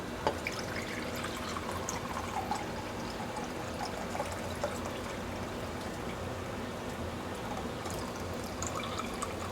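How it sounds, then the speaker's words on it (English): Broth from a creamy bacon pasta recipe is drained and poured off, a steady trickling and splashing stream of liquid running continuously at close range, with occasional drips and no talking. "I'm going to drain off this broth."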